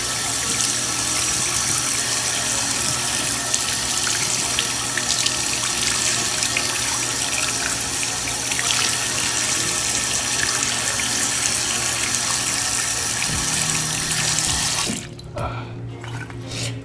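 Tap water runs in a steady, loud, unbroken stream over the brim of a flat-brim cap, wetting it, then drops off abruptly near the end with a few fainter splashes.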